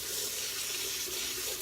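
Cold tap water pours in a steady, close hiss, splashing over basmati rice being rinsed in a bowl, with no talking.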